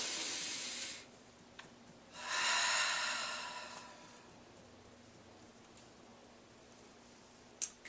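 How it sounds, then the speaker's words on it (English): A slow, deep breath drawn in and let out during a calm EFT tapping session for anxious children: two soft, airy swells of breath, close and alone in a quiet room, followed by a small click. "So, take a deep breath."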